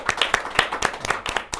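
An audience at a show by a stage magician in Bali claps in a loose, uneven burst: distinct sharp hand claps from a fairly small crowd, close and fading toward the end.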